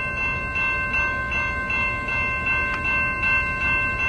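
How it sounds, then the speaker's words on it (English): A CN freight train led by locomotives #2621 and #8920 rolls past nearby in Port Huron, Michigan, with steady rumbling, a rhythmic clatter of cars and a sustained tonal whine. "Mom, you think the camera can see the train?"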